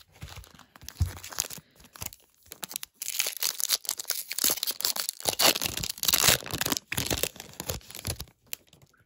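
2020 Topps Chrome Update trading card packs from a hanger box being torn open by hand, close crinkly foil rips and crunches in uneven bursts with brief pauses between packs.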